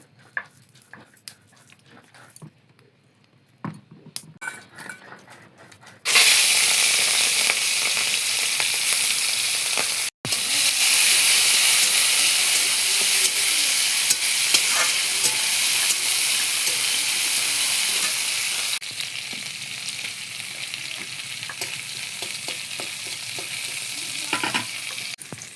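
Shrimp and akhri greens are stirred in a hot frying pan, a loud steady sizzle that starts abruptly after quieter clatter, with spatula scrapes through it and a brief gap midway.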